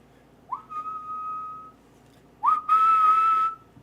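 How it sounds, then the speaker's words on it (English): A person whistles two sustained clear notes, the second louder and held with a brighter, airier tone, with a short pause between them. "that's one where I actually have to whistle it properly"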